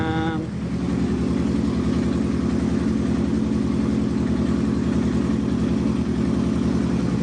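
Motorcycle engine idling steadily and loudly up close, a continuous even rumble with a fast regular pulse that holds throughout, alone without talk.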